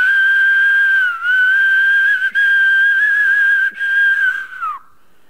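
A flute-like tone made by blowing across an edge, one steady sustained note held for nearly five seconds with two short breaks for breath, sliding down slightly as it fades at the end.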